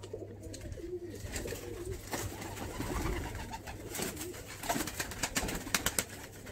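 Malwai pigeons coo continuously in a loft, several soft overlapping low coos at close range with wing flutters and scuffles growing louder near the end, no talking.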